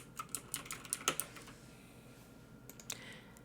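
Quick typing on a computer keyboard, a short flurry of crisp key clicks up close with one sharper strike, then a brief pause and a couple of final taps, quiet and alone.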